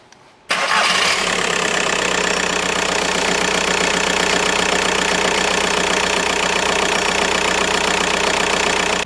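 A Volkswagen Golf TDI diesel engine cranks and fires after a brief quiet moment, then settles into a loud, steady, close-up idle with a knocking clatter.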